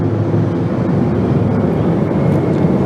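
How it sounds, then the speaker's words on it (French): Aircraft engine noise from three helicopters passing over a military parade, a loud continuous droning roar held steady throughout, with no voices. "c'est 3 hélicoptères qui viennent encore de passer"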